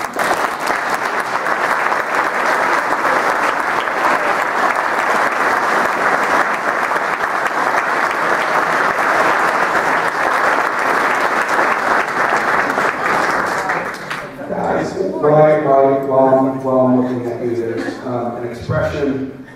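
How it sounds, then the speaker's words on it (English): An audience at a Northampton USO fundraiser claps loudly and steadily for standing staff and volunteers, a dense sustained applause that fades after about fourteen seconds, followed by a voice speaking and a few chuckles. "can I have my staff and my volunteers please stand up so they can get a round of applause"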